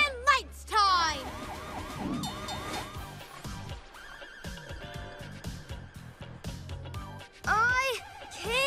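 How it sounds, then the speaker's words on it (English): A cartoon train sounds its siren amid busy animated sound effects: warbling wails, whistles and swooping tones, loud and layered. "Siren and lights time."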